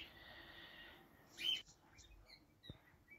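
Pet cockatiels, a lutino pied male and a whiteface female, give a few faint, thin chirps from a cage with a nesting box. The calls are short and scattered in a quiet room.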